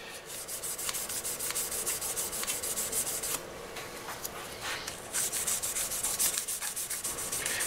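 Guitar frets being sanded with 1000 grit sandpaper during fret polishing on an electric guitar build, a close, steady scratchy rubbing in quick back-and-forth strokes that runs the whole time with brief pauses and no talking.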